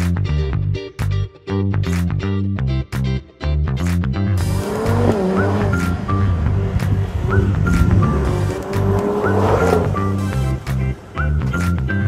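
A Lotus Emira sports car is driven hard on a track, with a loud engine rising and falling through gear changes and long, squealing tire skids, close and continuous.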